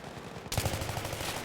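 Rapid automatic gunfire from the Battlefield 3 video game, a dense burst of machine-gun fire that starts abruptly partway in and rattles on steadily and loudly to the end.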